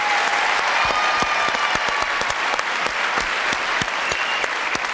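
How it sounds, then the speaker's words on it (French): Steady applause from a crowd, dense clapping that fills the space continuously without pause. "Quelques applaudissements pour Pierre Bellemare."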